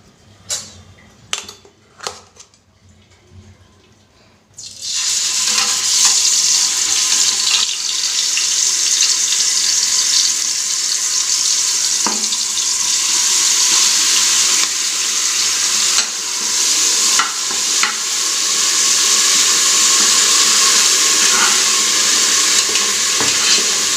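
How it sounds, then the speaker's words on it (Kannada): After a few quiet clicks, ground onion-garlic paste hits hot oil for a village-style country chicken sambar, setting off a sudden loud sizzle that keeps hissing steadily up close. "ಎಣ್ಣೆ ಕಾದಿದೆ ನೋಡಿ ರುಬ್ಬಿಟ್ಟಿರೋ ಅಂಥ ಪೇಸ್ಟ್ ಹಾಕೊತಾ ಇದ್ದೀನಿ ಈರುಳ್ಳಿ ಬೆಳ್ಳುಳ್ಳಿ ಪೇಸ್ಟ್ ಇದು"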